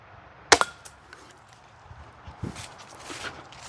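A homemade bolt strikes concrete in one sharp, loud impact with a quick rattling rebound, followed by faint scuffs and a softer knock in a quiet outdoor setting.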